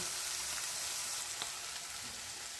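Foli fish pieces frying in hot oil with green chillies, giving off a steady, dense sizzle that holds close and even from start to finish with no voices.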